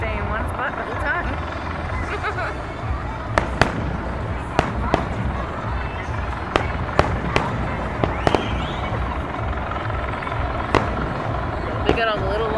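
Fourth of July fireworks in Washington DC, 2015, go off as a string of sharp distant bangs and crackles at an irregular pace, over a constant hum of crowd noise, with people chatting close by.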